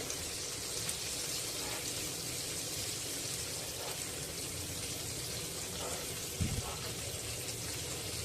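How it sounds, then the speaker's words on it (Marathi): Sardines frying in a pan over a low gas flame, a steady broadband sizzle that holds evenly throughout with a few faint clicks and a soft knock near the end. "आता हे कारली मासे फ्राय करायला ठेवूया"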